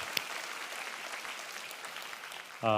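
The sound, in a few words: church congregation applause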